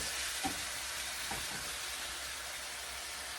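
Slightly frozen ground meat browns in a pan for shepherd's pie, a steady soft sizzle and crackle with a couple of faint stirring scrapes near the start.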